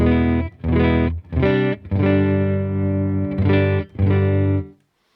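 Distorted electric guitar through a Boss Nextone amp with a Wampler Ethereal delay and reverb pedal: a few short chord stabs, then long sustained chords ringing out loud and alone before fading.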